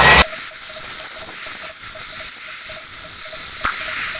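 Continuous loud hiss of a hot air blower running steadily to melt ice in a two-door Hitachi refrigerator, with a faint regular ticking underneath and a short bump at the start.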